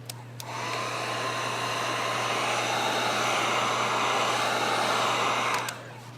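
A heat gun blows a loud, steady airy whoosh close by while heating a vinyl graphic on a Ford Bronco Sport, switching on and off with faint clicks at each end.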